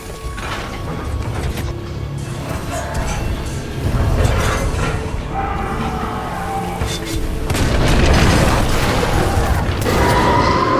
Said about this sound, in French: une série d'explosions a affaibli le bras robotisé